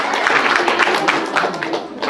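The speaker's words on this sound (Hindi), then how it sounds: "तो एक बार जोरदार तालियां बच्चों के लिए" A seminar audience claps loudly for the children, a steady dense patter of hands filling the hall throughout.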